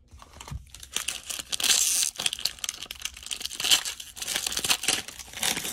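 Cello-wrapped plastic packs of 2019-20 Panini Prizm basketball trading cards are torn open and unwrapped, with close, continuous crinkling and ripping bursts of plastic film.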